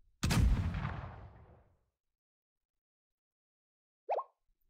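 One heavy gunshot from the video game Blue Archive booms loudly and fades over about a second and a half, then a brief, small chirping blip follows after a long silence.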